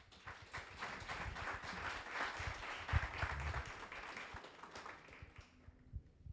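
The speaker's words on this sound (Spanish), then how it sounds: "Démosle un fuerte aplauso." An audience applauds at an international conference on political caricature: a sustained, fairly faint roar of many hands clapping together, tapering off over about six seconds.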